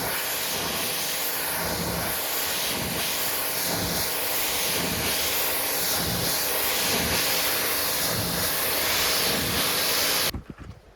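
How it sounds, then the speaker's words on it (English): A loud, steady hiss of a pressure washer spraying a vehicle runs continuously for about ten seconds, then cuts off abruptly. "You can pressure wash it."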